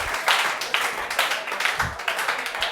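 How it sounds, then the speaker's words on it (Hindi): An audience claps for a student at an honours event for selected students, brisk, uneven hand claps close by, a faint voice briefly underneath. "इसके लिए तालियां हो जाए बच्चे के लिए।"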